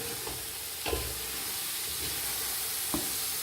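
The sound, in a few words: stirring carrots in a pan for carrot halwa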